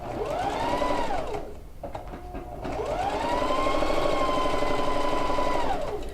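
A sewing machine stitches a quilted coat pocket in two close, loud whirring bursts, each rising to a steady speed and then winding down, with a brief near-stop between them.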